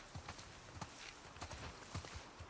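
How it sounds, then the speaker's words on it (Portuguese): Horse hooves clip-clop faintly in the video game The Last of Us 2, an uneven run of soft hoof falls thudding at a distance under low ambient noise. "Ah, cavalos."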